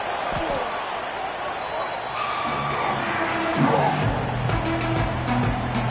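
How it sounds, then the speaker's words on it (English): Texas Tech Red Raider football crowd in a packed stadium, a broad sustained roar of cheering and yelling that swells steadily through a third-down play against OU, loud and continuous with scattered shouts. "The Red Raider crowd rising to the occasion to help its defense on 3rd down."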